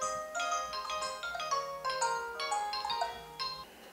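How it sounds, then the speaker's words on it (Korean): A telephone ringback tone repeats close and clear while someone waits for a call to be answered, steady pulsed tones with no talking. "잠시 한숨 돌리나 했더니 어딘가로 전화를 거는 강인원 씨."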